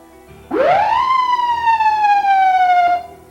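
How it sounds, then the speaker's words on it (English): A single ambulance siren whoop rises sharply, holds a long wailing tone that slowly sinks, then cuts off, loud and close with nothing else. "bump the siren switch."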